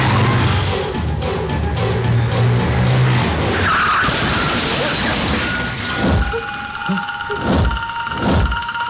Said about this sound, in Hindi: जल्दी चलाओ।